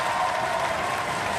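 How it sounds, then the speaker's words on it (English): A studio audience at a televised robot combat competition applauds Roadblock, a dense, steady burst of clapping heard at close range, brief and uninterrupted. "Give Roadblock a round of applause!"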